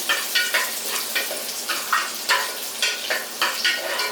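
Two cloves of finely chopped garlic fry in a rice cooker, a soft sizzle broken by brisk, regular scraping strokes of a spoon, roughly three or four per second, close up.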